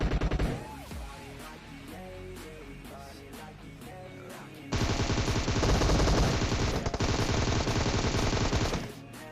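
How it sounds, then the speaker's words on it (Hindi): Rapid automatic gunfire in the PUBG Mobile video game, a steady burst at first and then a louder, denser spray of shots for the last half with no talking. "दूसरे को स्कूबी ने कवर फायर में ले डाला।"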